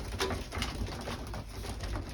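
Racing pigeons, reds and ashes, coo close by in a loft, a dense low burbling with soft rhythmic pulses and no talk over it.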